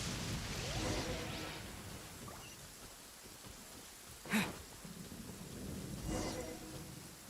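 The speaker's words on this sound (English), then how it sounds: "Uh-oh! Lightning storm!" Rain hisses steadily through a thunderstorm in the Genshin Impact video game, with a sharp crack of thunder midway and softer rumbles before and after, all fairly faint.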